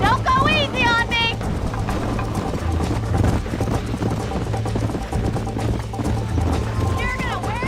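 In a Red Dead Redemption race, a horse gallops with fast, loud repeated hoofbeats, while voices shout and talk over the pounding rhythm and a brief whinny-like cry rises near the start and end.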